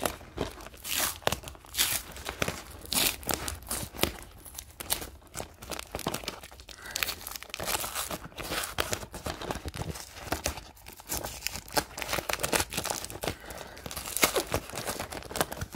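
Tape is torn and ripped from a cardboard package, with close, repeated scratchy tearing and crinkling bursts continuing steadily throughout.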